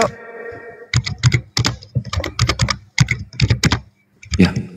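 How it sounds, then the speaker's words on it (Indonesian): Keys clatter on a computer keyboard in quick irregular bursts, loud and close, with short pauses between flurries and a brief faint hum at the start. "Ya, ngetik dia."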